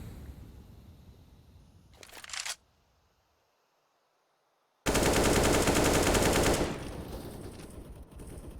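Counter-Strike wall bang gunfire: a short burst of shots, then near silence, then a loud sustained rattle of automatic fire that tapers off, close and dominant.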